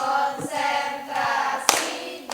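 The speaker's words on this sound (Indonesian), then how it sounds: "Ya, tepuk konsentrasi." A classroom group claps the rhythmic tepuk konsentrasi pattern, with sharp hand claps cutting through sustained sung or chanted voices.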